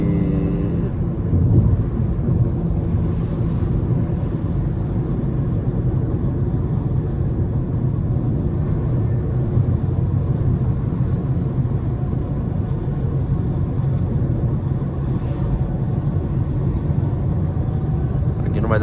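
A 2023 Toyota Corolla 2.0 accelerating to overtake on a highway: a steady, loud low engine and road drone with tyre roar that holds throughout, with a person talking over it.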